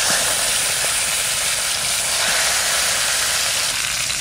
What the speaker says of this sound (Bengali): মাছটা একটু হালকা ভেজে নেব সরষের তেল দিয়ে।